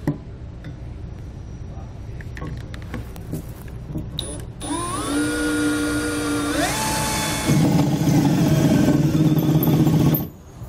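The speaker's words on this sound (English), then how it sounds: "we can go ahead and drill out the hole for our self-tappers" A power drill with a 21/64 bit whirs steadily for several seconds, its pitch climbing as it spins up and bites into the metal frame of a 2017 Grand Design Reflection trailer, then stops abruptly.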